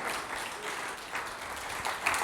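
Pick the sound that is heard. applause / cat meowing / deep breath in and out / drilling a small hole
applause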